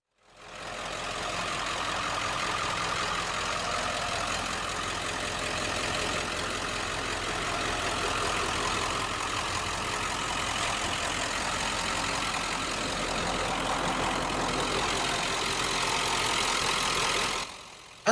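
A 1995 Ford F-250's 7.3-liter Power Stroke turbo-diesel V8 idles steadily for the whole clip, a loud, constant rumble with a rattly clatter and no voices.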